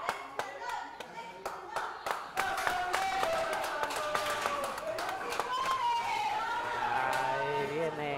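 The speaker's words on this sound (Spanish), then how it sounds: "el aplauso de la gente" Crowd claps and applauds at a lucha libre wrestling show in a gym, sharp scattered claps at first swelling into steady applause, with a commentator talking over it.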